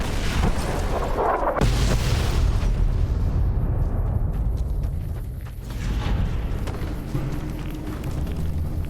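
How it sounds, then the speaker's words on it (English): Heavy explosions rumble through a Fallout: New Vegas game scene, a loud sustained blast and roar with a burst near the two-second mark, then rolling booms and debris noise continuing to the end, with no talk. "Don't worry about the explosions."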